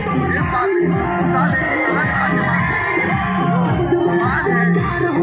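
Dense crowd of thousands massed at an outdoor rally demanding a separate Bundelkhand state in Uttar Pradesh, a continuous loud roar of mingled voices, shouts and whoops with no quiet gaps.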